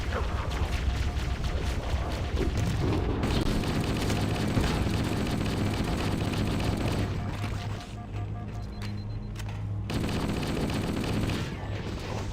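Sustained gunfire from the Halo 1 video game in co-op on Legendary, dense rapid bursts with booms filling the scene, briefly thinning before resuming loudly.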